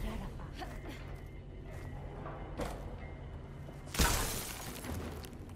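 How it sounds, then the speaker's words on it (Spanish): Midway through a quiet stretch of Horizon Forbidden West, an object breaks with a single sudden crash that scatters bright shattering debris before trailing off, while faint ambient game sounds sit underneath. "Tenía toda la pinta de eso de poder romperse"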